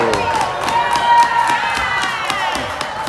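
A crowd at a PeeWee AA youth hockey championship game claps for a penalty, with rhythmic clapping and some cheering and shouting in a reverberant rink.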